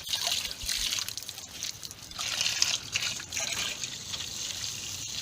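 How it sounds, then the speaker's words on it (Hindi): Water sprays and trickles steadily over the evaporator coils of an LG 1.5-ton window air conditioner being washed at home, a continuous hissing splash with small surges. "जो वेपोरेटर कॉयल है, इसको भी क्लीन कर लेंगे वाटर से।"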